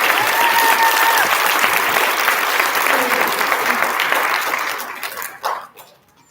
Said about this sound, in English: Nice big round of applause for our